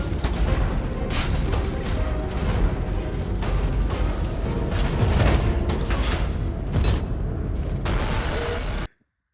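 Elevator machinery in the horror game FNAF Secret of the Mimic grinds back into motion: a loud, sustained mechanical rumble with clanks, creaks and booming thuds that runs for about nine seconds and then cuts off abruptly.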